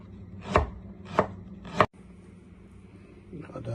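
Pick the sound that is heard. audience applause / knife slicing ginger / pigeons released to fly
knife slicing ginger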